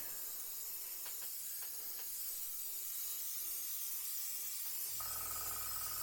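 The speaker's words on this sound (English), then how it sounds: "this airbrush is working really nicely" An airbrush sprays paint onto a 1/32 Revell He111 model kit, a quiet steady airy hiss that carries on without a break, with a low hum entering near the end.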